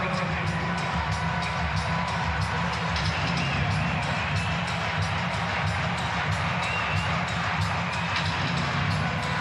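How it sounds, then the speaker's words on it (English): A big indoor crowd at Štark Arena in Belgrade claps and cheers for Serbian long jumper Ivana Vuleta during the women's final, a dense, steady roar with rhythmic clapping and whoops throughout, a commentator talking over it. "Everybody's clapping their hands, waving their Serbian flags for Ivana Vuleta."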